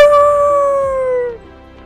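A dog lets out one loud, close, sustained howl that slides slowly downward in pitch and cuts off, leaving quiet.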